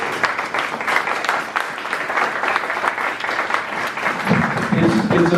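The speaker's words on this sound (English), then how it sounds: "So let's give them all a big round of applause." An audience at an art gallery on a university campus gives a big round of applause for gallery staff and artists, with steady, full clapping throughout and a low murmur rising near the end.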